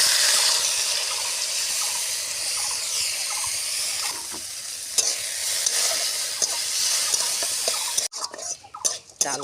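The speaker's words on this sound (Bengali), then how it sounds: "অল্প তেল দিয়ে আমি আগে চালগুলো ভেজে নেব" Soaked Gobindobhog rice frying in a little oil in a hot kadai, a close continuous sizzle with stirring scrapes and occasional utensil knocks, ending in a few sharp clanks as the sizzle drops away.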